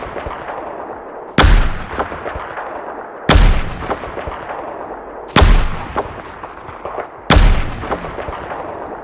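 Four powerful M200 Intervention sniper rifle shots fired in Fallout 4 at a Deathclaw, each a sharp, loud crack with a booming tail, spaced about two seconds apart over a low ambient background.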